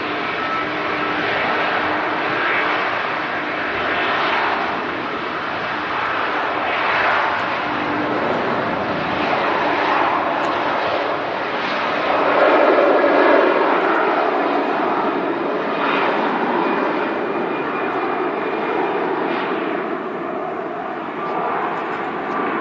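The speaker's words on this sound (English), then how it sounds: "Here goes the Jet2" Jet2 Airbus A330 airliner at Manchester Airport, a loud sustained engine roar that swells toward the middle and holds steady, with faint talk underneath.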